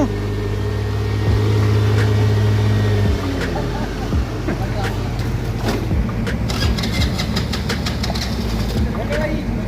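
An engine is started during a rainy day, cranking and catching into a rough idle up close, while people talk loudly over it.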